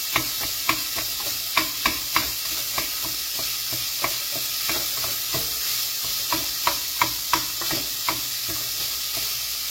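Food sizzles steadily in a hot pan while a utensil scrapes and taps against it in quick, irregular strokes, close and fairly loud, with no talking.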